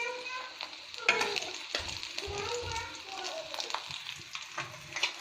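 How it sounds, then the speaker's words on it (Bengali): Koi fish frying in a pan with potatoes on the way, a steady crackling sizzle with occasional stirring scrapes and spatters, close and continuous for several seconds. "কই মাছ ভাজতেছি"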